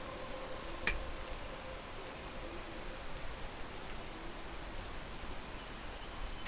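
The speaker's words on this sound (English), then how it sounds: "Will it stop raining every 40 fucking seconds?" Rain falls in the survival-climbing video game Peak, a steady close hiss of downpour that runs without a break and carries no voices.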